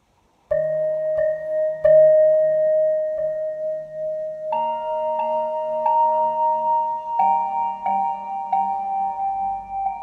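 A bright synth melody from the Vital synthesizer, sustained tones shifting in pitch in steps, with a low bass line underneath, fairly loud and uncompressed, no voices.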